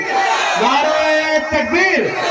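A crowd at a public poetry gathering in Bahraich roars Allahu Akbar in reply to the Nara-e-Takbeer call, one loud, sustained mass shout of many voices lasting about two seconds.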